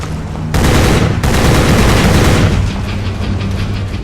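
Sustained loud automatic assault rifle fire in the dinosaur-hunting video game Jurassic The Hunted, a dense continuous burst starting abruptly and carrying on to the end with no talk over it.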